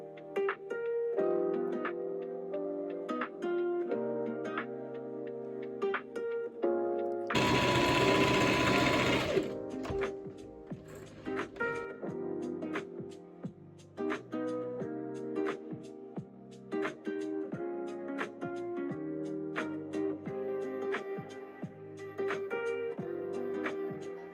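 A sewing machine stitches patches onto a pair of pants, its needle running in steady bursts with short pauses as the fabric is turned for a star shape, plus a loud rustling burst of fabric handling partway through.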